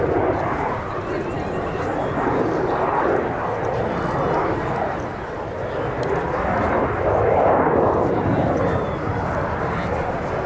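An AV-8B Harrier II jet displays at the RIAT 2024 airshow, its engine giving a steady, loud, broadband roar that swells and fades slightly as it holds in the air, with no break in the noise.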